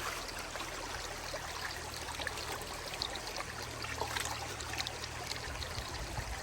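Spring water runs steadily near Nandana Fort in Jhelum, a continuous close trickle and stream with no voices over it, holding even throughout.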